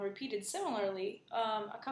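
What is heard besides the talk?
No everyday noises stand out.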